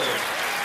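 A comedy club audience claps during a stand-up set, a brief, dense burst of crowd applause.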